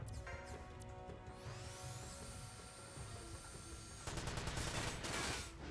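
Bursts of rapid gunfire in the Front Mission 5 video game, fairly quiet, with repeated rattling volleys over a steady mechanical hum and a rising tonal whine, ending in a sharper, denser burst of shots.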